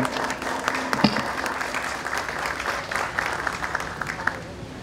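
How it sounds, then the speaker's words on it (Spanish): Audience applause greets a speaker at a Peru–Colombia binational exhibition, a steady dense clapping that fills the whole stretch at moderate level with no talk over it. "Con ustedes un fuerte aplauso"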